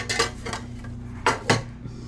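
A metal camping pan and mess kit clatter and clink in a camp chuck box, with several sharp bangs in two quick pairs over a low steady hum, close and fairly loud.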